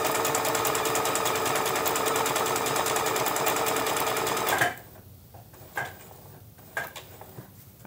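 A sewing machine stitches appliqué onto a fabric bag with a fast, loud, even mechanical chatter for several seconds, then stops, leaving quiet handling clicks and taps close by.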